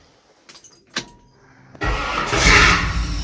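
A car engine cranks and catches after a fuel injector swap, settling into a loud, steady run following a few brief clicks and knocks in near silence.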